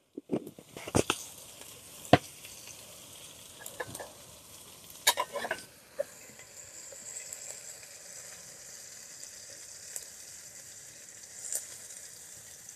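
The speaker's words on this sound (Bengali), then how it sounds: "এবারে আমি ফোড়নটা দিয়ে দিলাম।" Spices dropped into hot oil for tempering beside greens in a pan: a few sharp crackles and pops over a faint, steady sizzle, close and quiet.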